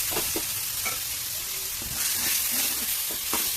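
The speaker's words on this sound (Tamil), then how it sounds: "இப்போ நம்ம அரைச்சி வச்சுருக்க தக்காளியை நம்ம இந்த வெங்காயத்தோடு நம்ம சேர்த்து வதக்கிக்கலாம்" Ground tomatoes fry with onions in hot oil for a jackfruit tamarind curry, a loud, close sizzle broken by several quick stirring scrapes and spoon knocks, with no one speaking.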